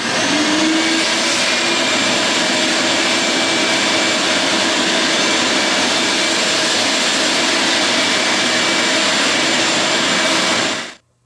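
A vacuum cleaner sucks up sawdust in a workshop, a loud, steady roaring whine held near throughout before cutting off abruptly at the end.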